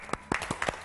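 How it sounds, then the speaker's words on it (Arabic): Children clap on request in a group, producing four or five separate bursts of hand claps spread through a short moment rather than sustained applause. "صفقوا لها أصدقائي، يلا صفقوا لها صفقوا لها بقوة"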